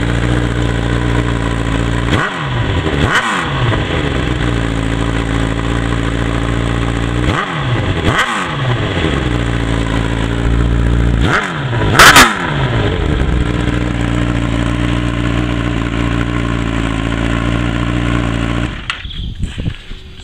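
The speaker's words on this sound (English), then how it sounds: "that's how she sounds with the baffle in." A 2008 Honda CBR1000RR Fireblade with a Racefit exhaust, baffle fitted, idles loudly and steadily close by, punctuated by several sharp throttle blips in quick pairs that rise and fall, with no voices.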